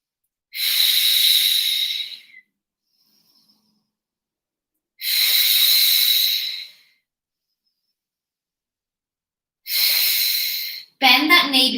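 Three long, loud breaths in and out, each about two seconds with quiet pauses between, taken close up during a deep leg stretch, with a brief breathy burst at the end.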